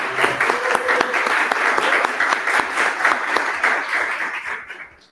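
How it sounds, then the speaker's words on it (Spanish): Applause for a speaker named Rodrigo closing a design school talk: dense, steady clapping from a sizable audience that holds for about four seconds, then tapers off quickly. "un aplauso para Rodrigo."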